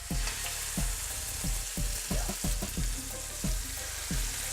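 Double-cut pork chops sizzle and fry in a hot pan, a loud steady crackle with repeated bursts as the meat is moved, no talking over it.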